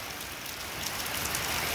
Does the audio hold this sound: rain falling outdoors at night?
yes